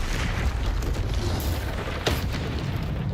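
A Confringo blasting spell goes off in Hogwarts Legacy as a dense, loud burst of roaring explosive noise, with a sharper crack near the end, amid continuous combat din.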